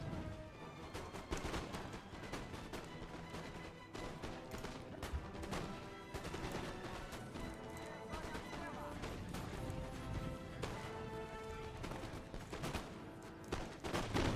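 Musket volleys from Russian Jaeger infantry fighting in the center of a Napoleon Total War battle: a steady, dense crackle of scattered shots and distant rolling fire that runs continuously, with someone talking over it.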